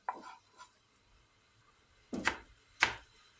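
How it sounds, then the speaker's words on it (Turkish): A knife chops through lemon on a cutting board while a chickpea dish is prepared: one softer cut near the start, then two sharp, close chops about a second apart, with no talking. "Limonu böyle doğradıktan sonra"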